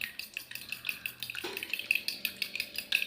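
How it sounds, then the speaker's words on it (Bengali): Two eggs beaten with a fork in a bowl, a quick run of light metallic taps and clicks in a steady whisking rhythm, close and fairly soft. "তাই কাঁটা চামচ দিয়েই ফেটাচ্ছি।"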